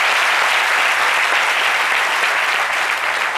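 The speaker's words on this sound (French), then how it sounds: "Des applaudissements, mesdames et messieurs." Studio audience applause on a French midday television show, a loud, even roar of clapping that stays constant from start to finish with no voices on top.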